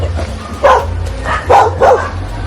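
A dog barks close by in three quick, loud woofs, with a short gap after the first and the last two coming nearly back to back, over a low outdoor rumble.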